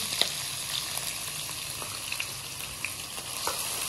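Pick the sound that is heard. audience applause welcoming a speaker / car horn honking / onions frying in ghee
onions frying in ghee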